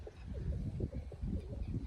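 Several pigeons coo softly nearby, low repeated throaty calls overlapping in a loose rhythm.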